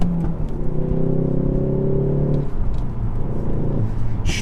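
An MK4 Ford Focus ST drives in sport mode, its engine a loud, steady close rumble with a droning tone that holds, dips briefly and returns as it pulls along the road.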